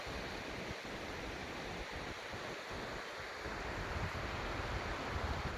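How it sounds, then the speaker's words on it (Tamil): A small river stream flows through a forest near Avalanche, a steady broad rushing wash of water that swells slightly louder toward the end, with no talking. "சின்னதாக ஒரு ஓடை மாரி தான் போயிட்டுருக்கு."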